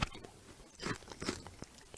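Crisp crunching of freeze-dried blackberries being bitten and chewed, a few sharp bursts spread over two seconds, close and fairly quiet, with no talking.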